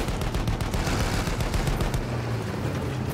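Sustained heavy gunfire from a mounted gun in Battlefield 1 during a muddy trench battle, dense continuous rattling shots filling the whole stretch with a low rumble beneath.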